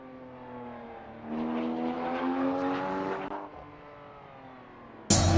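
A Mitsubishi 3000 GT on a timed racing lap, its engine climbing through a rising rev with strong layered harmonics, holding high, then easing off as it passes, heard clearly with no voices.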